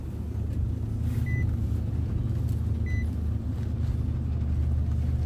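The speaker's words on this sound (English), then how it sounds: "Let's just start up the car. It's a push start" A 2020 Nissan Titan Luxury pickup is push-button started and idles with a steady, loud low rumble, while two short electronic chimes sound about two seconds apart.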